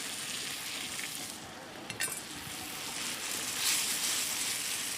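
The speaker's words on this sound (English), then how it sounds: "Already frying away in here, I've got some finely chopped onions and chopped tomato and green chilies" Finely chopped onions, tomato and green chilies fry in a hot pan, giving a steady close sizzle with a brief clink of a utensil partway through and a short surge of crackle later, no voices.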